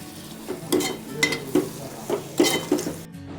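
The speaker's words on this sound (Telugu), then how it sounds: "మొత్తానికైతే ఎగ్స్ ఫ్రై అయితే చేసుకున్నాడు" Eggs frying in a pan with garam masala, coriander powder and green chillies: a soft sizzle runs beneath repeated rhythmic scrapes and clinks of a utensil stirring against the pan.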